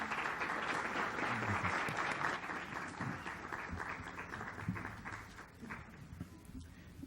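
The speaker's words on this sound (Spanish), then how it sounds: "Un cordial aplauso, por favor." A small audience claps at the presentation of a book on Don Quixote, a moderate patter of hands that is fairly quiet overall and gradually thins out and tapers off.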